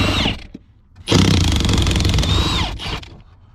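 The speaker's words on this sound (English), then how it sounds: "I'm going to use the 1/2 inch, you know, overkill impact." A 1/2 inch impact wrench hammers loudly on bolts, one short burst, then a pause, then a longer sustained rattling burst of about two seconds that trails off.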